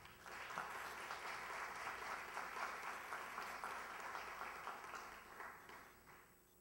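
Sustained applause from an audience at the 2015 Distinción a la Mujer Miraflorina ceremony in Miraflores, a broad wash of many hands clapping steadily before gradually tapering off at the end.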